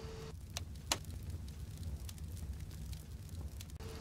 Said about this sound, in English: Okay, I hear fire.